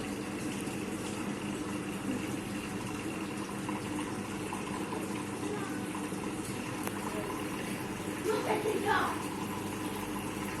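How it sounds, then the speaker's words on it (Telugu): A front-load washing machine fills with water, a steady rushing hiss with a low mechanical hum held throughout, fairly even in level, with a brief swell near the end. "చెక్ చేస్తున్నాం మిషన్ వాటర్ వచ్చినాయి కదా"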